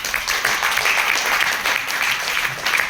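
An audience at a network-marketing business training seminar in Agra claps steadily, a dense, sustained wash of applause throughout with no break.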